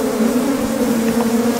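Honey bees swarm around an open hive during a brood inspection, a dense, steady, loud buzz with a constant droning hum and no voices.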